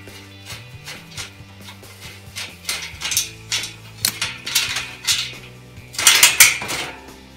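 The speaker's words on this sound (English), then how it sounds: "Okay, so we got the adjustable wrench on the inside. We got the socket, 14 millimeter." Metal clinks and clanks of an adjustable wrench and 14 mm socket working a nut and bolt during assembly of a TaoTao DB14 110 dirt bike, a string of close, irregular taps with a louder rattling burst near the end.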